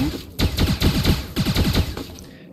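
Rapid bursts of tank gunfire in the video game Starbound, several quick volleys of shots in close succession, loud and near, with no talking over them.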